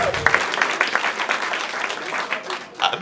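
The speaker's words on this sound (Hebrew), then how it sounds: "אז זה מגיע כפיים" An audience applauds, a steady patter of clapping with a voice speaking over it.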